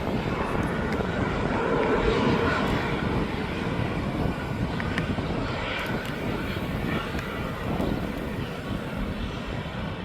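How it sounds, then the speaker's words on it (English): An Atlas cargo aircraft with its engines running is pushed back at East Midlands Airport, giving a steady, loud roar with wind buffeting across the microphone. No one speaks. "The engines are now started on that aircraft."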